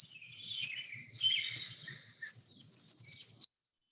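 High-pitched bird calls in a forest, a series of thin whistled chirps and short notes, clear and fairly close, repeated in a quick run before stopping, with faint low rustling underneath.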